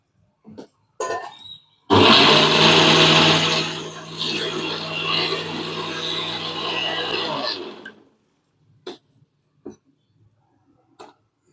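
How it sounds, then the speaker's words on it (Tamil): A mixer grinder whirs loudly, grinding coconut paste with a little water for kara kuzhambu, in one sustained run of about six seconds, with a few faint clicks and knocks before it starts and after it stops. "கொஞ்சமாக தண்ணி விட்டு அரைச்சிக்கலாம்"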